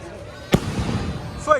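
A single sharp firework bang at a Christmas church celebration in Kanyakumari, followed by a rumbling tail and a faint crackle near the end, with crowd voices in the background.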